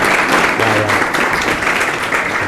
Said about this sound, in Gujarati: ચિરોઈ સ્ટેટને યુવરાજને તાળીથી વધાવો